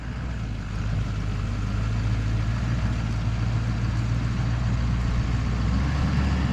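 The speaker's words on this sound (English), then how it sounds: "we're gonna take a Chevy and pull it out of there" A Chevy truck engine runs steadily at idle nearby, a continuous low rumble with no talk over it.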